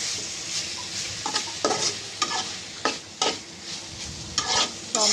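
Vegetables for a lati bhaji, seasoned with pepper, stirred and mixed in a sizzling pan, with repeated scraping strokes of a spatula over a steady frying hiss.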